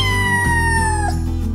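A kitten or mother cat meows in one drawn-out, clear cry that slides slowly downward, with a second brief call near the end, close and loud against a steady low hum.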